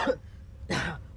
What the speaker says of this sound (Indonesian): Baru begitu saja sudah batuk-batuk loh.